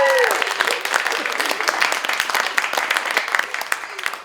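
An audience applauds at the 2022 Home for the Holidays concert at BPAC: dense, steady clapping from a large crowd that stays loud throughout and thins only slightly toward the end.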